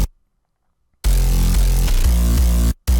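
The Closure 808 bass by CM Spark plays alone: silence, then a heavy, deep sustained bass note that slides through a few pitches before a brief cut and a final hit.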